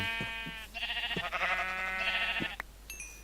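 Several sheep bleats from Minecraft, wavering nasal calls repeating close and fairly loud over about three seconds, with short low clicks of game sounds between them and no talk.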